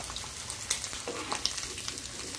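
Prawns coated in rice flour frying crisp in a pan on low heat, a soft steady sizzle with scattered light pops and crackles.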